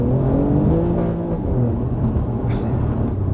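An Alfa Romeo Giulia Quadrifoglio drives with a loud, close engine drone whose pitch shifts slightly as it revs, steady and without speech.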